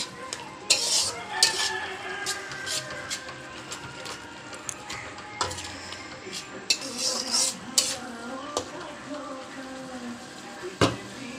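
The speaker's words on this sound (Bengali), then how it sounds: "সর্ষে বাটাটা দিয়ে একটু আমি 3-4 সেকেন্ড নাড়াচাড়া করব" Mustard paste being stirred in a pan, with irregular metallic scrapes and clinks of a utensil against the cookware over a low sizzle, close and busy, sometimes rattling in quick bursts.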